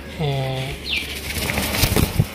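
A female pigeon of a fancy show breed flaps its wings loudly as it is let go from a hand, a close burst of fluttering after a brief cooing note, with a voice partly under it.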